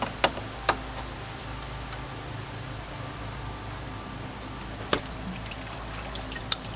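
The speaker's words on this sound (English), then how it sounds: "So you can see that's pretty much just pure water coming out of there at this point." Coolant, now nearly pure water, drains from a 2016 Volkswagen Passat cooling system during a water pump replacement, a steady close trickle broken by a few sharp clicks.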